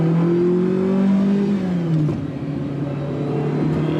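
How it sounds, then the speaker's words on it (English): A Ferrari 308 GTB flat-plane-crank V8 revs hard and close, its tone climbing and dipping in a loud, sustained mechanical roar. "Very free revving engine."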